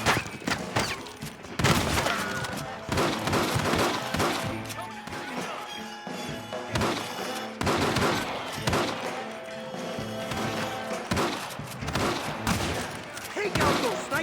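Gunfire rattles through a Red Dead Redemption shootout against snipers in windows, dense bursts of loud shots and impacts repeating throughout, with voices shouting at times over the battle.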